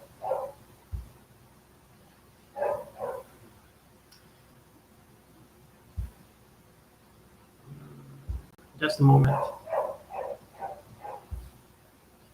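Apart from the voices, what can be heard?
dogs barking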